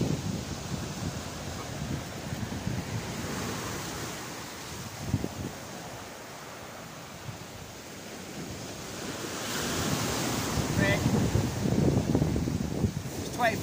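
Wind gusts across the open shore of Great Yarmouth south beach, a breezy, blustery roar buffeting the microphone with surf washing behind it, rising and falling without speech.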